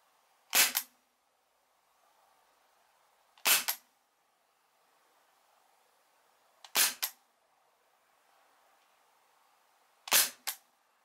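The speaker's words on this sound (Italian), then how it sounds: "Facciamo qua 3 o 4 colpi e non di più." Four sharp air pistol shots fired close to the microphone during a noise test, each a loud crack with a quick echo-like second pop, spaced about three seconds apart against near silence.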